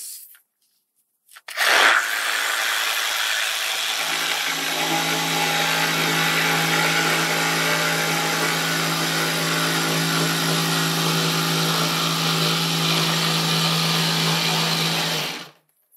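An electric jigsaw makes a demonstration cut. The motor starts abruptly, then holds a loud, steady high whine with a buzzing blade for about fourteen seconds before cutting off sharply. There is no talk.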